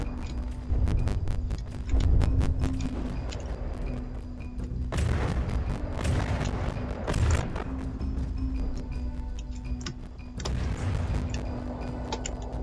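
Tanks trade fire in a Tiny Tank Tourney battle, an icy team against an operator team, with repeated heavy booms and sharp impacts that come in bursts and clusters over a steady mechanical hum.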